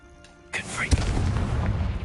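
A Confringo fire spell blast in Hogwarts Legacy erupts suddenly into a loud, booming burst with a sharp crack, then rumbles on in a dense, roaring tail that fills the rest of the moment.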